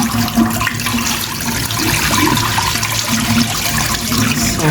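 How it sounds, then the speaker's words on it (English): Hot tap water streams steadily over meat being rinsed in a sink, a loud, continuous splashing rush with no voices. "I'm rinsing off my meat, and guys, I'll continue to rinse off my meat"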